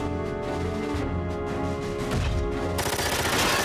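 Game combat in Front Mission 4 with repeated sharp shots against a sustained musical and mechanical bed, ending in a louder noisy burst of fire or impact.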